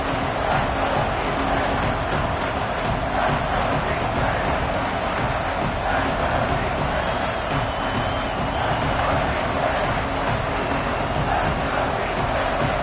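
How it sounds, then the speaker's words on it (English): Crowd noise in a football stadium during a red zone defensive stand in Oklahoma, a dense, steady roar of many voices at constant loudness for the whole stretch, with no clear single voice on top. "This crowd is trying to inspire this defense to make a big red zone stop"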